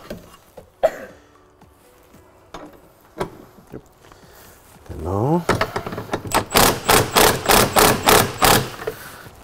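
A bolt being loosely screwed in on an electric caravan leveling jack (Enduro AutoSteady), heard as a rapid series of close, sharp metallic ratcheting clicks in the second half, after some scattered knocks and handling sounds.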